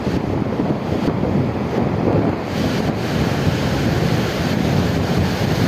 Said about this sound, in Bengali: এখানে খুব বাতাস লাগতেছে না? বাতাস উঠতেছে এই জায়গা থেকে